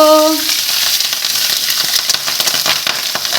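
Hot oil crackles and spits steadily in a wok holding capsicum and carrot, a dense close sizzle with scattered sharp pops running throughout, no voices.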